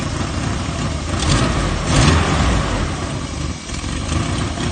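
A Nissan 240SX engine revs steadily under throttle, a dense, continuous mid-range roar that swells around the midpoint and dips briefly before settling, with no talking.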